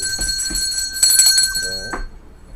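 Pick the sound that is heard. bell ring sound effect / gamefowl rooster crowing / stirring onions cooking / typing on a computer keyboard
bell ring sound effect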